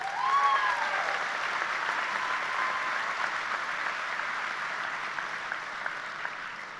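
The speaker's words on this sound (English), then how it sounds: "Give yourself a round of applause for that" Graduation crowd at a Saddleback College commencement applauding in a broad, sustained wash of clapping that fills a large outdoor space and fades slightly, alone and moderately distant.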